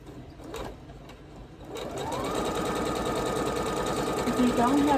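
A sewing machine stitches fabric for a quilt top, starting up after a short pause and then running steadily and fairly close, a continuous whirring hum with a quiet voice faintly behind it.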